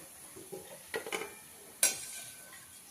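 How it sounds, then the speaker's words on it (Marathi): Bhaji fritters frying in hot oil in a pan give a quiet, steady sizzle, broken by a few brief clatters and scrapes as they are stirred and lifted. "मी असे सर्व भजी तळून घेते"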